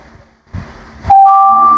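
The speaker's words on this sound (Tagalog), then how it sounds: "kung narinig niyo yung beep sound, doon sa CCTV camera, connected na siya" A Tapo TC40 CCTV camera sounds a single steady electronic beep, held for about half a second, as it connects to Wi-Fi. Faint shuffling noises come before it.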